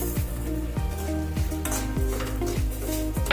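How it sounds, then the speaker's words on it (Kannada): Semolina frying in a pan with a cup of sugar stirred in for hotel-style kesari bath, a spoon scraping in repeated strokes over a steady low sizzle, close and fairly loud with no talking. "ರವೆನೂ ಕೂಡ ನಾವೀಗ ಫ್ರೈ ಮಾಡ್ತಾ ಇರಬೇಕು."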